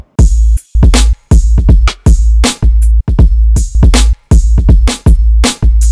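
A loud, punchy hip hop beat with heavy booming kicks and crisp snares in a steady laid-back groove, tightly chopped with brief gaps.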